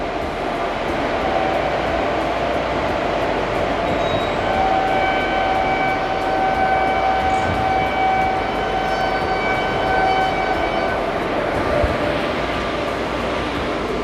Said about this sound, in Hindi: सामने से आ रही है अमृता एक्सप्रेस